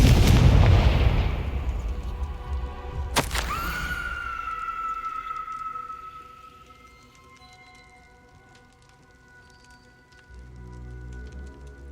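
A Confringo blasting spell goes off in the Hogwarts Legacy video game with a loud booming explosion at the start. Rumbling debris follows, then a sharp magical crack and a ringing tone that fades slowly.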